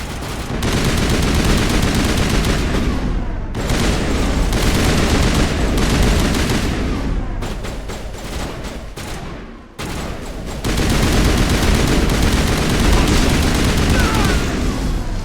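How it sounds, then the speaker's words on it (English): Dense, loud gunfire from a shotgun-like weapon in the Mass Effect Legendary Edition video game, continuous heavy blasts broken by two short pauses, with no talk. "this gun's basically a long-range shotgun at this point"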